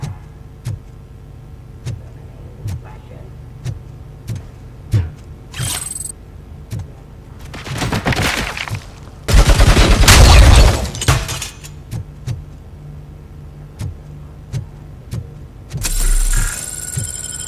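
Gunfire in the RoboCop: Rogue City video game comes as a steady series of sharp, evenly spaced shots, with a longer, louder burst of booming fire in the middle and a few heavier impacts near the end.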